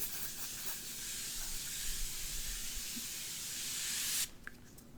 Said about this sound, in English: So I have to say this is a continuous mist.